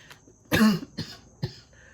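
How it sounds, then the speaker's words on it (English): A single person coughs close by: one strong burst followed by two shorter, weaker coughs, with no speech. "That cough came out of nowhere."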